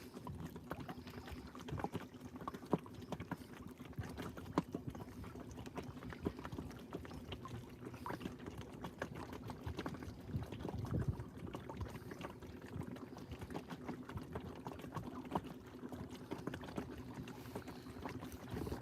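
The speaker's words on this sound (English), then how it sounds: "Can you hear on camera all them waves slapping the bottom of the boat?" Small waves slap continuously against the hull of a cruising boat on the Norfolk Broads, a busy wash of splashes and knocks under a steady low motor hum, fairly faint and with no talking.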